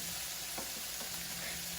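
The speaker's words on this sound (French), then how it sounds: "pour la sauce tomate, j'ajoute l'autre moitié d'oignon et je remue" Onion being stirred in a saucepan as the base of a tomato sauce, a steady sizzle of frying under soft scraping strokes, close and continuous with no talking.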